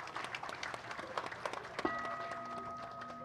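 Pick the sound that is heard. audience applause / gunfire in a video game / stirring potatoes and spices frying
audience applause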